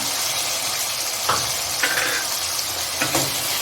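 Ginger-garlic paste and tomato fry in hot oil, giving a continuous close sizzle with a few brief scraping knocks from stirring and no voices.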